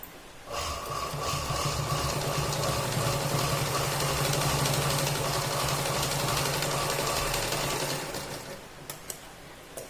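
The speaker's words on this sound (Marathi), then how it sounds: "पूर्ण ही पट्टी अशी आतमध्ये अशी फोल्ड करून आपल्याला शिलाई मारून घ्यायची" An electric sewing machine stitches a folded fabric strip for a cloth bag, whirring continuously and steadily for about eight seconds before stopping, followed by a few small clicks.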